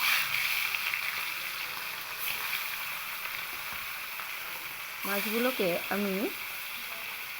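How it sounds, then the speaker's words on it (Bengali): Pomfret fish coated in salt and turmeric dropped into hot oil, giving a loud, steady sizzle and crackle throughout, with a brief spoken phrase near the end over the frying. "এবার আমি এর ভেতরে লবণ হলুদ মাখিয়ে রাখা মাছগুলো দিয়ে দেব।"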